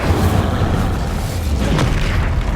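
Incendio fire spell cast in the video game Hogwarts Legacy, a dense, loud roaring whoosh of flame that holds steady for a couple of seconds with no pause.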